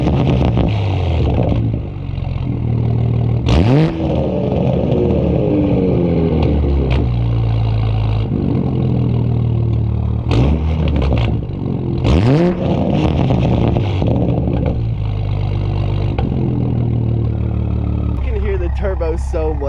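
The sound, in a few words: sports car titanium exhaust revving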